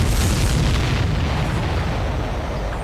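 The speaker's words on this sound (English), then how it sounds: "Caught up in the explosion." A supply ship blows up in the Ace Combat 7 video game, a loud, sustained rumbling boom that rolls on and slowly fades across the whole stretch.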